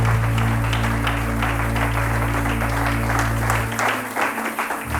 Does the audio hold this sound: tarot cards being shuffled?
no